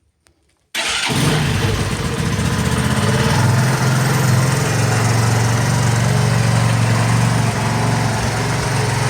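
A motorcycle engine, just freed of stuck clutch discs, fires up after a brief silence and settles into a loud, steady idle that runs unbroken and close by to the end.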